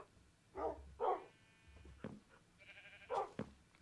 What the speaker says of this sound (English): I hear my dogs barking